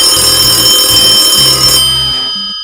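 A cell phone rings in a wooden railway remake of Thomas and the Magic Railroad, a loud electronic ringtone of repeated tones that trails off at the end, with no talking.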